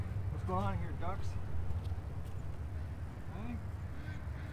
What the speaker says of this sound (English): What's going on here, ducks?